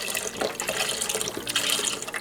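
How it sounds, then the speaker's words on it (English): Beef broth poured from a 32-ounce carton into a stew pot for hamburger stew, a steady splashing liquid pour running close and continuous for about two seconds, with no talking. "we need 4 cups of beef broth, so that's this whole carton"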